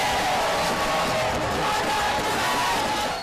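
A crowd cheers at an outdoor political rally ground in Ogun State, a dense, sustained roar of voices with whoops and shouts that stays loud and steady throughout, with no single speaker standing out.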